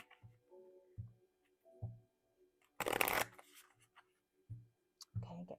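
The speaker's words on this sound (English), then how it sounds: "let's just shuffle the cards" Tarot cards are shuffled in one brisk riffling burst near the middle, surrounded by soft taps and quiet card handling, all close and intimate.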